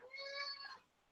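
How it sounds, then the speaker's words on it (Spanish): A house cat gives a single clear, tonal meow lasting under a second, close by in a quiet room. "El gato se quería salir."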